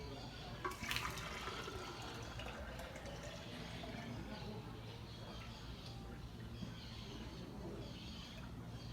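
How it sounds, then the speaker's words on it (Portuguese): Water poured from a square-based prism container into a triangular-based prism in a classroom geometry experiment, heard as a steady, close splashing trickle that runs the whole time. "vou passar a água do volume de base quadrada para o prisma de base triangular"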